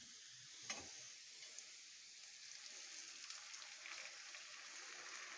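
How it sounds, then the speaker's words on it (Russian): Water poured into a skillet of frying pelmeni dumplings sets off a soft, steady hiss and crackle, with a brief louder splash at the start, then faint bubbling sizzle continuing quietly. "Добавляем немножко водички."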